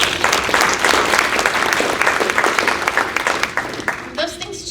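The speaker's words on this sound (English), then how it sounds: "let's just applaud that" A crowd claps continuously for several seconds, dense and lively, tapering off near the end.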